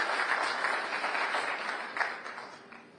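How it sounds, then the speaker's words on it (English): Soft, distant applause ripples through the audience at a women's professional pool match, steady and fading slightly over a few seconds. "And a great round of applause, Eric."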